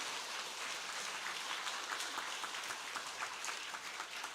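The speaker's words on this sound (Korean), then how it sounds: "큰 박수로 한번 축복해 주시기 바랍니다" Korean church congregation applauding a family at an infant baptism during Sunday worship, a steady, fairly distant wash of many hands clapping without pause.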